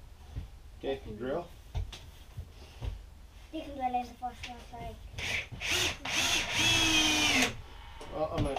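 A power drill drives screws into wooden raised planters for a preschool. One sustained, whining burst of drilling rises near the end, with people talking before and around it.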